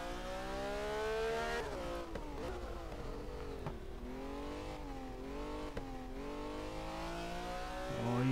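Virtual 397 hp, one-tonne race car in the racing game Race 07, its engine revving steadily with rising and falling pitch through gear changes and cornering, a sustained loud drone with a sharp rev climb at the end.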